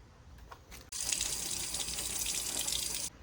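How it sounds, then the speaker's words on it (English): A tap runs to wash a Tamiya model car body, a steady hiss and splash of water starting abruptly, flowing for about two seconds, then cutting off, close and quiet with no voices. "we're gonna definitely wanna wash it"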